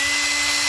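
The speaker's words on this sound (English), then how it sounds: "I need to drill it out." A power drill whines steadily as it bores out the end hole of an Acerbis X-Factory handguard for a Kawasaki KLX 300R, a brief, close, loud and even mechanical tone.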